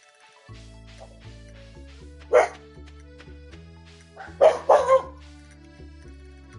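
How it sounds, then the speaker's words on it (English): A small dog and a big dog bark indoors, a few sharp close yaps and a cluster of louder barks, over a steady droning tonal background. "My little dog starts barking because, well, that's what she does. And then she starts my big one barking."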